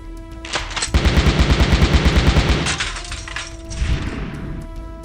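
Rapid, evenly pulsed automatic gunfire from the 2002 Xbox game Metal Dungeon runs loud for about two seconds, then breaks off into a crash and a fading tail.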